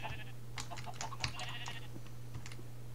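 Sheep bleat faintly in a video game over a steady electrical hum, with scattered clicks and soft tapping in the background.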